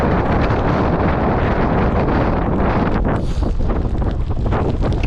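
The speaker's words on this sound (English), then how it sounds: "Wind is absolutely berserk." Strong wind roars continuously across a coastal walking trail, buffeting the microphone with loud, unbroken rumbling gusts and no voices.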